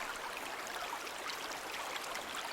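A running stream in the Raging Loop video game gives a steady, soft, broadband rush of flowing water, quiet and unbroken throughout.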